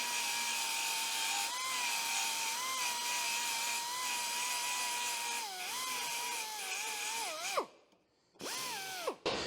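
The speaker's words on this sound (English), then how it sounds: "These little belt sanders will rip in there, linishing sand or whatever you want to call it, and clean up little lumps and bumps like this" A small belt sander grinds rust off a door, a loud close whine holding steady and dipping under load, then cutting off and briefly spinning back up before stopping.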